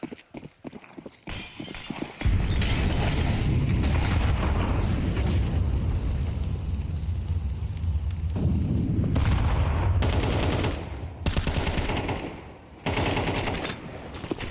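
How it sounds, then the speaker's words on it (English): Counter-Strike 2 tournament action: a sustained loud blast of grenade and gunfire noise rumbles for several seconds, followed by sharp, choppy bursts of shots near the end. "Oh, that nade gets clipped. Yeah, it doesn't do much. Just bounces off the pipe."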